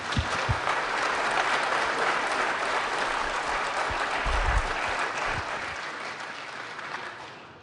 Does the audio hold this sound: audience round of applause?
yes